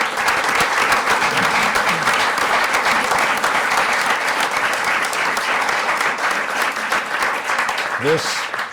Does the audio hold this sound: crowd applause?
yes